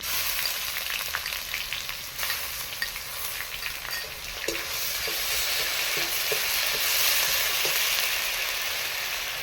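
Spice paste frying in a pan while cooking a prawn kofta curry: a loud, steady, close sizzle with faint stirring scrapes throughout, no voices.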